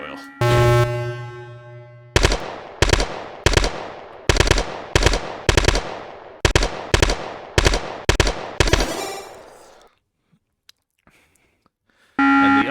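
Eagle AR rifle fire in a video game, a single loud burst followed by a rhythmic run of rapid paired shots, then a pause and another short burst, close and punchy with no talking.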